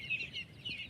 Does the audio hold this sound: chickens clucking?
yes